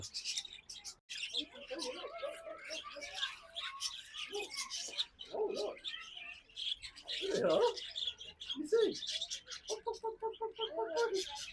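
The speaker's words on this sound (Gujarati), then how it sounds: "નાની નાની કેટલી જાતની ચકલીઓ છે" Small birds chirp and tweet in quick bursts at moderate distance in Abbey Park, Leicester, with a rapid trilling call near the end, over quiet background murmurs.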